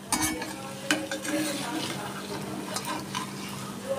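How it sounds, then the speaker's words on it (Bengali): Lentil vadas (bora) for doi bora sizzle steadily in hot oil, with a continuous bubbling hiss and occasional clinks of a spoon stirring in the pan. "এই বড়াগুলোকে আস্তে আস্তে করে ভেজে নেব।"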